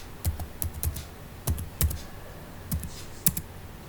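Keys clatter on a computer keyboard as a MySQL describe command is typed: irregular, close clicks in small clusters with pauses between them, and no voices.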